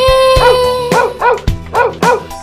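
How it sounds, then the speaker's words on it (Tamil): A dog gives four short, evenly spaced barks over a children's song with steady music underneath. "அழகும் நாயும் வீட்டிலே"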